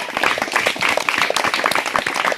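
Several people clap together in quick, uneven bursts at a village street performer's show, a lively scattered patter of hands lasting a couple of seconds.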